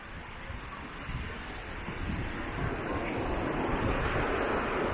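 Broad steady rushing of the DuPage River flowing around a bend, a continuous wash of water noise with some wind, building slightly in loudness, with no voices.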